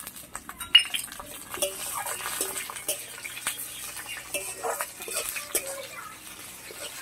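Tomato stirred into fried onions and a bay leaf in a pan, heard as scattered spoon scrapes and metallic clinks against the pan over a faint soft sizzle, fairly close, with some quiet talk.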